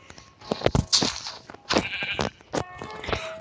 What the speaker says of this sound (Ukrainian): в нас барани тут